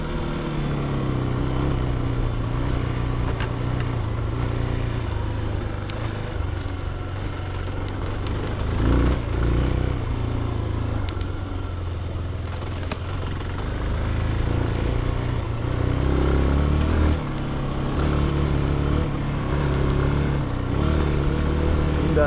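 CFLite Dual 250 motorcycle ridden through a forest: a steady low engine drone runs the whole way with shifting throttle and faint rustle, close and continuous, no talk.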